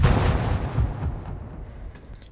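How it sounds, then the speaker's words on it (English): Explosion tail sound effect: a deep, rumbling boom decays over two seconds, low-end roar fading gradually into faint crackles and debris. "there's just some run-of-the-mill explosion tails"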